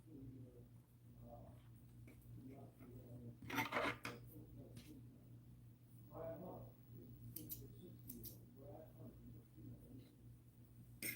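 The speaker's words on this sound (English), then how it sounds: "let's go ahead and cut our thread" Scissors snipping sewing thread while making a doll dress sleeve, a faint close crisp snip or two amid quiet handling noises and a low background hum.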